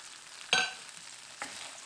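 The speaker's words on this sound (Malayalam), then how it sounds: "അപ്പം ചെറിയുള്ളിയും പച്ചമുളകും കൂടെ ഒന്ന് ഇട്ട് കൊടുക്കുക." Shallots and green chillies dropped into a hot pan for a prawn fry, giving a sharp sizzling burst followed by a second, softer sizzle under quiet kitchen background.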